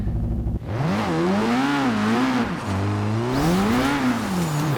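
Nissan S15 drifting in Forza Horizon 2, its engine loud and close, pitch swinging up and down as the throttle is worked through a slide, with a brief dip before the revs rise again.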